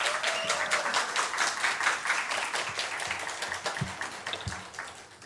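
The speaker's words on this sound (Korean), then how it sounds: "박수로 환영해 주시길 바랍니다" Congregation applauding in church to welcome a missionary serving in the Philippines, a dense, steady wash of many hands clapping that fades slightly toward the end, with no one talking.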